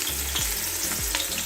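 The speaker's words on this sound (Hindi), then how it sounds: "प्याज हम फ्राई करेंगे।" Onions frying in ghee in a cooking pot, a steady close sizzle with a few scraping stirs of a spoon against the metal, no voices.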